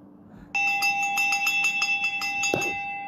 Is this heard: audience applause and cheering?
no